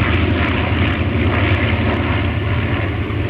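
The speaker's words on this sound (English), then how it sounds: "Overhead right now, we have some aircraft from the Texas Flying Legends Museum." Vintage propeller aircraft from the Texas Flying Legends Museum drone steadily overhead at an airshow, a loud continuous engine roar filling the whole stretch without talk.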